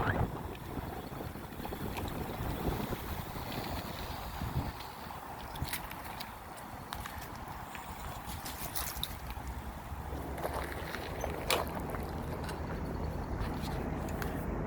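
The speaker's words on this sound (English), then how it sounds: "Probably can't hear me with this wind." Wind buffeting a rider on an eBMX electric bike at low tide, a loud, steady broadband roar with scattered bumps and rattles, close to the microphone, no clear talk.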